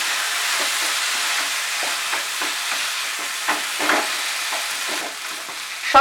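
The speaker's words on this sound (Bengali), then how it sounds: "আলুটাকে ভালো করে মশলার সাথে মিশিয়ে নেব।" Mashed boiled potatoes stirred together with spices in a hot pan for a masala dosa filling: a steady close sizzle broken by soft, repeated scraping and stirring strokes, with no talking.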